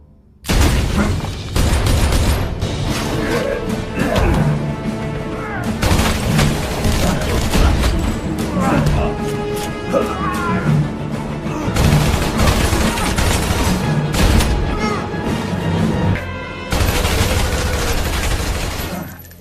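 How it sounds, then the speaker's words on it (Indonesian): Shotgun gunfire in an action film scene from Taken 3, loud booming blasts in dense, overlapping bursts that run almost continuously, with a few brief lulls between volleys. "Brian pun langsung diserang oleh para anak buahnya yang menggunakan shotgun."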